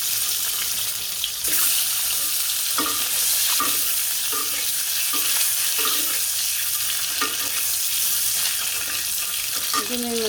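Curry sizzles steadily in hot oil in a pan on a stove, with intermittent scraping stirs of a spoon breaking through the constant frying hiss; close and fairly loud, no talking.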